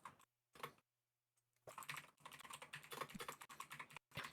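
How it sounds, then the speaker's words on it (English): Fingers tap on a computer keyboard in quick, irregular bursts of close keystrokes, with short pauses early on and then a steady run of rapid typing. "All I hear is massive fingers plucking away at that keyboard"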